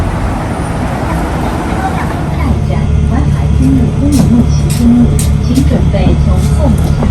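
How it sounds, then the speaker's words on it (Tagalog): A 911 route bus runs with a steady low engine drone and road rumble that strengthens partway through, while people talk nearby. "911 na bus ang aking sasakyan."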